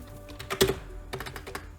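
Code being typed on a computer keyboard: a quick run of close, crisp key clicks, with one louder stroke early on followed by an uneven patter of lighter taps.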